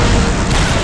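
A grenade explosion in Star Wars Republic Commando lands as a single loud, close boom with a dense, noisy burst that rumbles on for under a second.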